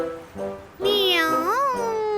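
An animated cartoon cat gives a loud, drawn-out meow that rises and bends in pitch, close and alone after a brief quiet lead-in.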